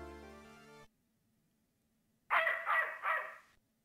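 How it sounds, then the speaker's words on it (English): Dog barking in the Snatcher video game, a rapid run of three close, loud barks after a musical tone cuts off and a short silence. "That's a dog."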